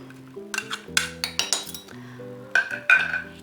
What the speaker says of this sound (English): I'm just using a spoon. Give it a nice little mix there.